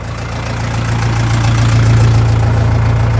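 A Lovol 354 tractor engine runs steadily while planting cabbage with a seedling planter, loud and close, with a deep throbbing drone that holds constant throughout.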